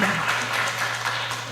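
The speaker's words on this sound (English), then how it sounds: "give applause to Professor Yayo" An audience applauds for a professor at a conference, a brief burst of dense clapping with a steady hum underneath.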